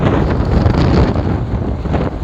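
Strong wind gusting in the town of Dimasalang, Masbate, loud and close, buffeting the microphone with rough, surging rumble that swells and eases throughout.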